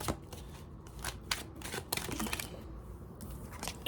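Tarot cards being shuffled and drawn, quiet close riffles and sharp card snaps in irregular bursts, soft and near with no voice over them.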